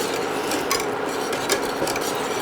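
Coffee caramel is stirred continuously in a pot, giving a steady scraping, rubbing sound with soft rhythmic strokes every half second or so, close by and with no talking.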